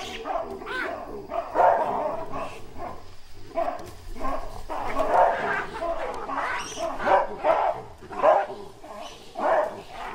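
Male baboons bark loudly and repeatedly in a dawn dominance display, a series of harsh nearby calls in uneven bursts, with a voice talking over them.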